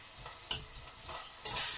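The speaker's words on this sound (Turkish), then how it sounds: "şu güzelce bir kavrulsun" Food sizzles in a hot pan while a utensil stirs it, two sharp scraping stirs breaking through a quiet, steady frying hiss, close up with no voices.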